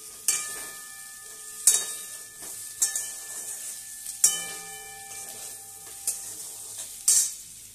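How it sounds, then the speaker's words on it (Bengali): Potatoes frying in a pan: a soft, steady sizzle runs underneath while a spatula scrapes and clatters against the pan every second or so, with several sharp, close stirring strikes. "আর এখানে এবার আলুগুলোকে ভাজছি।"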